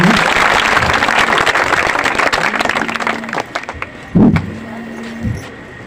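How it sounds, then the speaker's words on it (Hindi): An audience at a student talent award ceremony in Haripur, Alauli, Khagaria claps loudly and steadily, with a few voices faintly audible beneath the applause. "आप एक बार पूरा जोरदार ताली बजाइए।"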